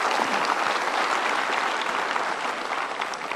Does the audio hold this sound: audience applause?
yes